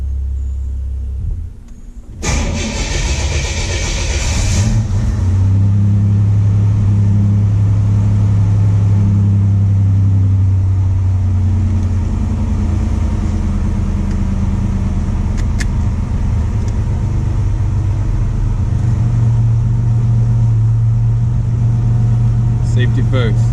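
A Buick Grand National idles and rumbles with a low, steady engine drone close by, then pulls off and cruises with a throaty hum that rises and falls, while a person talks over it.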